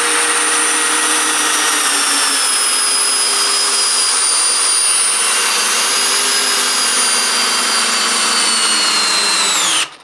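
A Bosch multi-chuck drill driver runs in speed 2 with a loud, steady high-pitched motor whine, close and continuous for about ten seconds before stopping abruptly.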